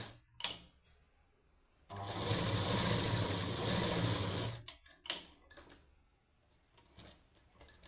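A sewing machine runs in one steady burst of about three seconds while stitching a fall onto a saree. Softer handling clicks and taps come before and after it.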